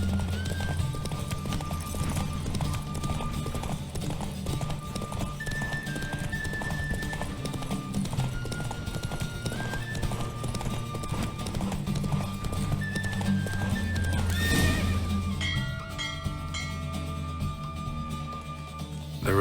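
Rapid rhythmic hoofbeats of a galloping horse in a race in The Witcher 3: Wild Hunt, with a whinny, set against music, continuing steadily before a brief swell near the end.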